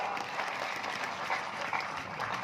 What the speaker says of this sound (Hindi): बड़ी अच्छी बात है, तालियां बजाओ।